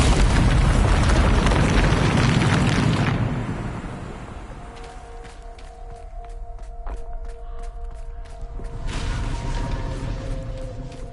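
Explosion from the Bombarda spell in a video game, a loud deep boom rumbling for a few seconds and fading into crackling debris, then a second rumble swelling near the end.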